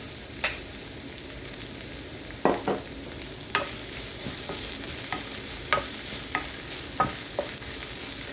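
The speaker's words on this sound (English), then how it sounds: "We want to stir fry the onions too." Onions stir-fried in a pan for Thai basil shrimp, a steady low sizzle punctuated by a series of sharp spatula scrapes and clacks at irregular intervals, near and clear with no talking.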